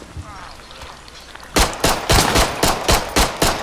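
Rapid bursts of KG-9 submachine gun fire in the zombie game Contagion, about ten sharp cracks in quick succession after a quiet stretch, loud and close.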